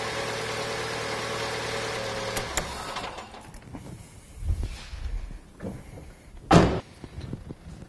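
A Fiat Panda II engine idles steadily after an oil change for a couple of seconds, then shuts off, followed by scattered clunks and one sharp knock close by.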